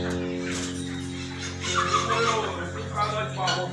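Chickens cluck on a farm, with hens murmuring continuously over a steady low hum and a few louder clucks rising midway.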